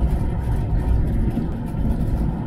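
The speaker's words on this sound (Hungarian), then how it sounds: "Hangilag, hát régi dízel autó, hát pont olyan hang van benne." An old Land Rover Series 3 with a diesel engine is driving, giving a steady, loud, low rumbling drone heard from inside the cabin without talking.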